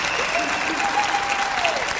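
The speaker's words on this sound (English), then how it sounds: "How about another big round of applause for Mr. George Noory?" An audience applauds steadily at a live talk-radio convention event in the Austin Convention Center, a dense, even wash of clapping throughout with a faint tonal sweep over it.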